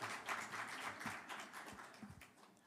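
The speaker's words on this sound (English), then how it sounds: "A round of applause for him, please." Audience applause at a panel event on UAE transparency and MRV systems, scattered faint clapping from a small crowd lasting a few seconds.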